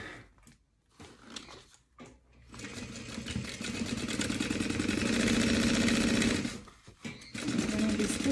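Sewing machine stitching the inside of a storage cubby made from a bubble mailer, starting with a few short bursts, then running steadily and loudly for several seconds, pausing briefly and resuming.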